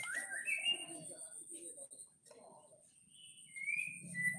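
A caged songbird, kept by a bird-keeping hobbyist around a cage bath, gives a few short, bright chirps at the start and again later, with a faint steady high whine and soft background noise in between.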